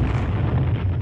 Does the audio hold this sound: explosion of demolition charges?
yes